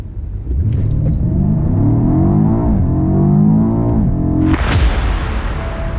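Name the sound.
BMW M5 F90 accelerating 0 to 100 km/h without launch control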